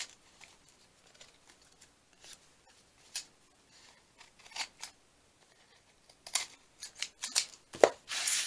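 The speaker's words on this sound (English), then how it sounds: "Fabric scissors." Sharp scissor snips, sparse and quiet at first, then quicker and louder in clustered bursts of cutting through fabric, with no voices.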